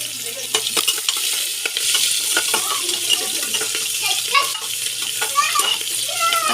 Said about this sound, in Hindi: मैं जीरा डालूंगी थोड़ा सा और ये अनियन डाल दूंगी साथ में